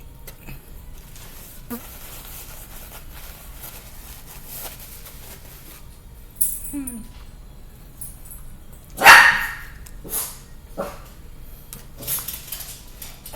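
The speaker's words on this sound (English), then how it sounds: "And they're barking." Household dogs bark in scattered, intermittent bursts, with one loud, sharp bark near the middle and several fainter barks and yips around it. A few clinks of dishes sound in the background.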